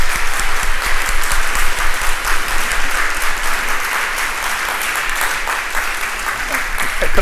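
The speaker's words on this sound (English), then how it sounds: "can we give Nancy a round of applause?" Audience in an evening show gives a round of applause for a woman named Nancy, loud, dense crowd clapping sustained evenly for several seconds, with faint voices mixed in beneath.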